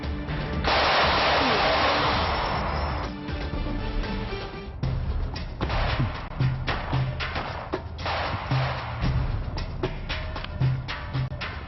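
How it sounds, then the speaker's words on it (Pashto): Gunshots ring out in a park in a Pashto television drama scene: a long roaring burst at the start, then a run of sharp cracks and pops that keep coming, loud and close. "له پارک نه د ډزو غږ راځي"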